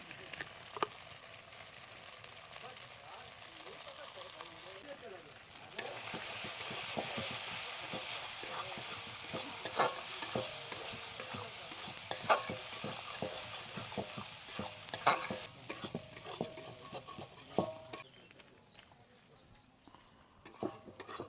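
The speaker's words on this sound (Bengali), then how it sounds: "আমার মশলা থেকে তেল ছেড়ে গেছে, মশলা ভাজা ভাজা হয়ে গেছে।" Spice masala for a katla fish curry frying in oil in a pan, giving a steady close sizzle with occasional clinks and scrapes from stirring.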